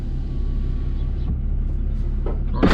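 A 2020 Ram 3500 HO dually pickup towing a CAT D3 dozer idles and pulls off with a low steady engine rumble, close and fairly loud, with a faint whine and a couple of short knocks near the end.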